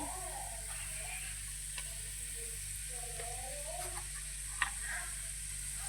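Garlic and turmeric sizzle steadily in hot oil for bhindi sabzi, a continuous close frying crackle with occasional spoon clinks and stirring scrapes, no voices.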